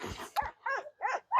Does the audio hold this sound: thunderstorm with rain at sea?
no